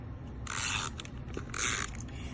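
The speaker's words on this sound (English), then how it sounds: "I'm going to go ahead and snail this or adhere it to the front of the card" An adhesive tape runner rolled across a card panel makes two short bursts of dry, rasping, ratchet-like mechanical clicking, close and alone, with a brief pause between them.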